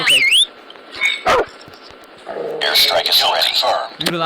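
A dog barks and yelps in the Call of Duty Mobile video game, several sharp barks amid game effects and electronic tones, with someone talking over the action.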